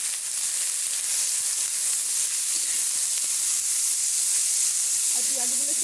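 Onions sizzle and hiss steadily in hot oil in a pan for chicken masala, a dense, even frying noise that carries through the whole clip, with faint clinks near the end.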